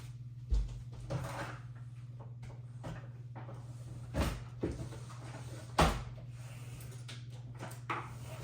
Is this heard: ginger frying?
no